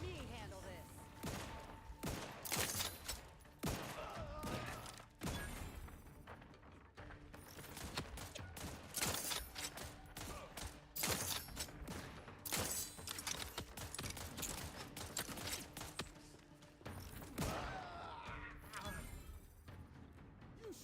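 Rapid gunfire in the video game Outer Worlds 2, dense bursts of shots and thuds repeating over roughly twenty seconds with brief gaps, fairly quiet overall, with some voices and game sounds mixed in.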